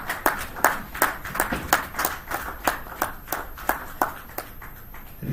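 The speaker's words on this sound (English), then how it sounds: "Please join me in celebrating and applauding this fine one and only" Sparse, separate claps ring out at a chamber of commerce breakfast meeting honouring an award recipient, a few hands striking in a loose, uneven rhythm of sharp individual slaps rather than a full ovation.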